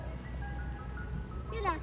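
An ice cream truck passes, its tinkling jingle melody faint in the background while people and someone talk nearby.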